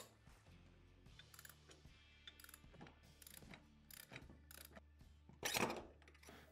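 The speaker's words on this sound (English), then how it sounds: "we're going to use a 32mm wrench and 19mm socket to remove that inner race" A 32mm wrench and 19mm socket turn the puller bolt of a Motion Pro tool to pull a motorcycle steering stem bearing race, a quiet series of ratcheting clicks in short bursts with a louder metallic scrape near the end.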